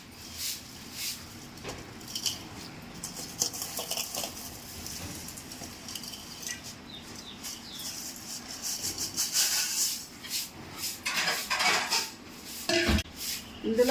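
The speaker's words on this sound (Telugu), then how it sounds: "ఈ సేమ్యాలు అందులో వేసేసుకుందాం." Vermicelli dropped into boiling water in a pot, with clinking of utensils against the pot and light pattering and scraping, close and moderately loud.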